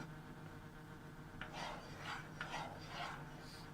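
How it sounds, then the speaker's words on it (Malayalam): Apple pieces in ghee with cardamom powder are stirred continuously in a pan, a soft rasping scrape in several strokes, close but quiet over a low background hum. "കണ്ടിന്യൂസ് ആയിട്ട് ഇങ്ങനെ നല്ലപോലെ മിക്സ് ചെയ്ത് എടുക്കുക."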